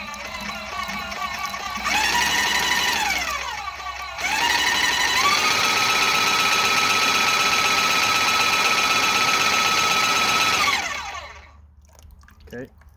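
An airless paint sprayer machine runs with a steady mechanical whine and buzzing motor hum, starting, pausing briefly, then running evenly for several seconds before cutting off into near silence.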